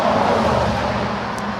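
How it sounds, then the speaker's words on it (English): Steady roar of road traffic on a very busy main road in Sonoma, California, with cars rushing past continuously and loud throughout, no voices. "so you have to excuse the road noise."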